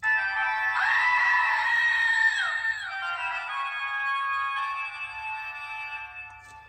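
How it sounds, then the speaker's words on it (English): A screaming goat novelty toy lets out one long, loud, strained bleating scream that wavers and trails off, followed by a fainter buzzing tail. "It's a screaming goat."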